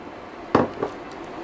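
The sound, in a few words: cherries added to a pot of boiling syrup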